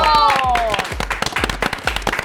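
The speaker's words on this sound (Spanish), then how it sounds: "Un aplauso para Carlos Rangel." Studio audience applause on a Mexico City comedy talk show, dense clapping over a voice that speaks at the start, fading into scattered claps.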